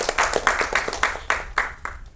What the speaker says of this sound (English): Once more, round of applause to Sirin for being our inspiration.